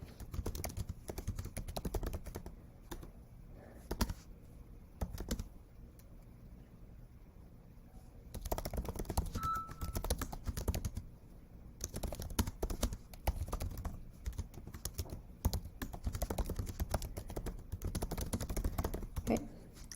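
Quiet computer keyboard typing of a CAS reflection on ManageBac, irregular soft key clicks in bursts with gaps, close but low in level, with faint background noise throughout.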